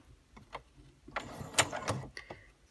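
A sewing machine stitches fabric tags one stitch at a time, giving several separate, quiet mechanical clunks and whirs with short pauses between them and no talking.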